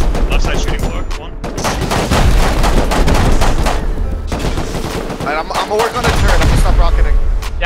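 Rapid gunfire from a Rust raid at a launch site, dense overlapping bursts and single shots, loud and close, continuing across the whole stretch.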